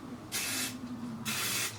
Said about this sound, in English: I'm just gonna spray my dry shampoo